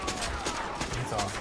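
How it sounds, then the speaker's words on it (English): Rifle shots from Erron Black in Mortal Kombat 11, several sharp gunfire bursts spaced through the moment, layered over dense game effects and background noise. "he can start shooting"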